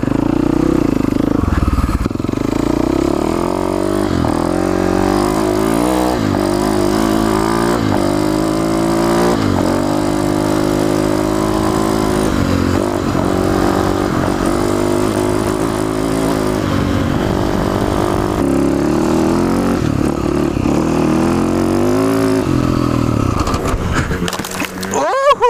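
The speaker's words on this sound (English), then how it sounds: "So today I'm riding with Rob on KTM 200." Dirt bike engines on a technical trail, a KTM 200 and a Husaberg FX450, loud close engine droning and revving with rising and falling pitch throughout, gear changes and throttle blips, ending with a sharp clatter.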